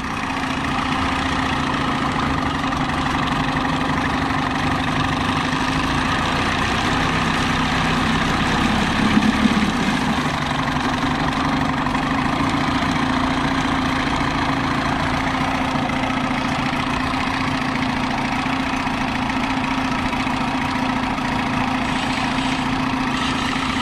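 A 1976 Mercury 7.5 horsepower outboard motor idles steadily with a constant droning hum, even and unchanging throughout with no talk.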